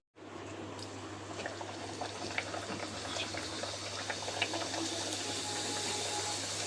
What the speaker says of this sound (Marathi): तर हे तुम्ही बारीक गॅसवर तळायचं।